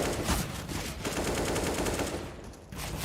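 Rapid gunfire in Counter-Strike: Global Offensive, a dense run of loud shots blending into continuous bursts over game noise, with a short lull near the end before firing resumes.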